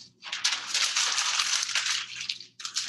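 An object crumpled up by hand during a physics lecture demonstration, a loud continuous crackling crunch lasting about two seconds, then a brief second crinkle, close and alone.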